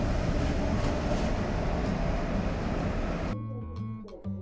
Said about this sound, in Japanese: トンネルから列車が出てきましたね。